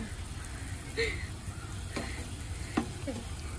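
Brahmi greens cook in a little leftover oil in a pan, giving a soft, steady sizzle with a few light scrapes and clinks of stirring.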